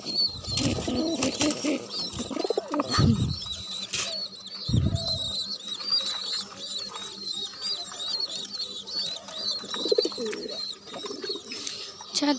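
Pigeons and doves coo on a rooftop garden among potted vegetables and fruit trees, with low throaty coos repeating near and at a distance, along with occasional wing flaps and a constant background of chirping birds.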